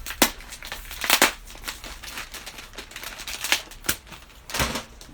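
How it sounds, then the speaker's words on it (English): A glued plastic part is ripped off a dollar store item, giving a series of sharp cracks and tearing snaps in irregular bursts, close and fairly crisp, with quieter crinkling between the louder pops. "we're gonna rip this off, and this just comes right off"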